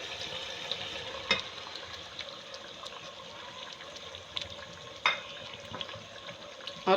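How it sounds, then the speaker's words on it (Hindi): Okra pieces dropped into a pan of roasted spice masala, giving a steady bed of frying sizzle with a few sharper crackles and spatters, close and moderately loud, with no talking. "और अब मैं इसमें डालूँगी भिंडियाँ। ये जाएंगी भिंडियाँ।"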